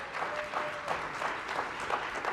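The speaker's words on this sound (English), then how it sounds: "So a huge round of applause for Tom as well." Brief, fairly distant crowd applause at a disability rights diplomacy event with U.S. Secretary of State Blinken, a steady, even wash of many hands clapping.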